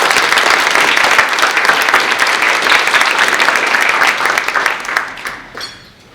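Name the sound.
audience applause welcoming a speaker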